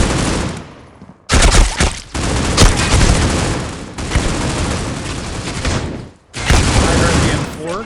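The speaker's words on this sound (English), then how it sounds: "I heard the M4." M4 rifle fire in the Critical Ops shooter game rattles out in loud sustained bursts, separated by two short pauses, with dense overlapping shots close by.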